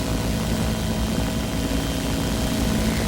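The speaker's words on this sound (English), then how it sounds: "Always like to see when it lifts off and a tremendous thrust from the chopper" A helicopter lifting off with a heavy load, a loud, steady, close rotor and engine roar with a continuous thrumming drone that holds level throughout, with no voices.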